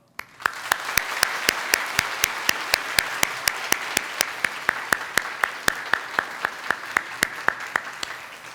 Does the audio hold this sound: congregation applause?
yes